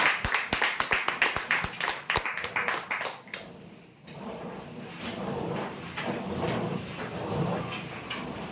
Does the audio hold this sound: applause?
yes